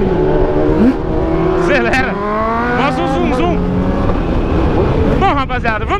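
A motorcycle engine revs and accelerates on the road, rising and falling in pitch in several surges with a rough mechanical roar, recorded up close from the rider's position.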